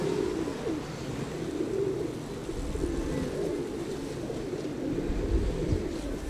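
Pigeons cooing softly in a low, steady murmur, fairly faint against a constant background hum, with no speech.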